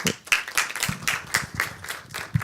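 Scattered audience clapping at a youth safety forum, a dozen or so crisp, uneven claps close by and moderately loud, with no talk over them.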